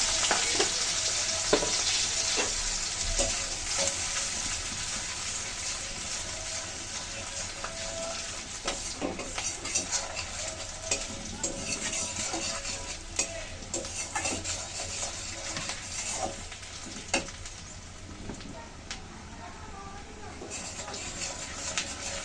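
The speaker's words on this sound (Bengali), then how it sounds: "নারকেল দিয়ে কাঁচা লঙ্কা দিয়ে ভালো করে ফোড়নটা ভেজে নিলাম" A steady sizzle of coconut and green chilies frying as a tempering in a pan, with occasional stirring scrapes throughout and no clear talk.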